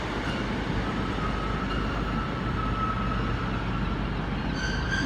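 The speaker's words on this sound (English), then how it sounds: "that 150 was a bit squeaky" A Class 150 diesel train rumbles steadily at Exeter St David's station, with faint high squealing tones drifting through the continuous loud engine and rail noise.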